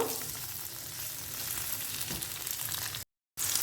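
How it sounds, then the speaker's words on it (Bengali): Chopped onion, peeled garlic cloves and a tomato hit hot oil in a pan for a katla fish curry, giving a steady, close broadband sizzle that runs without pause before a brief dropout near the end. "এবার তেলটা গরম হয়ে গেলে আমি এর মধ্যে দিয়ে দেবো কুচিয়ে রাখা একটা পেঁয়াজ কয়েক কোয়া রসুন ছুলে রাখা আর দিয়ে দেবো একটা টমেটো"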